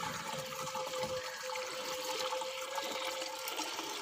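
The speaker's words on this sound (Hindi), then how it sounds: "अब इसको पानी की भर देंगे।" Water pours into a pesticide sprayer tank on a farm, a steady, close, rushing gush that runs continuously without a break.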